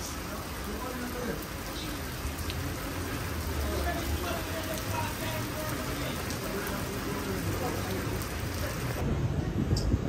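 Heavy rain beats down outdoors in a steady, dense hiss that grows slightly louder over ten seconds, with a low rumble of thunder underneath and someone talking over it at times.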